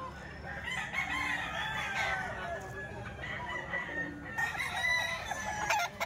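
A red kelso gamecock rooster crows repeatedly at close range, its long calls rising over background rooster noise and faint murmuring voices in an outdoor yard.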